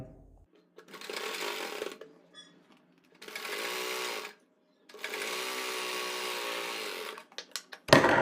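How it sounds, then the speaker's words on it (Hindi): A sewing machine stitches elastic onto a palazzo in three sustained, close bursts of rapid whirring separated by short pauses, with brief clicks and handling noise between runs. "यहाँ पर टाँकी बांधते हुए पूरी सिलाई लगाएंगे"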